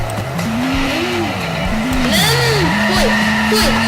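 A car driving in a video game, its engine pitch rising and falling loudly up close as tires squeal and skid, with voices talking over it.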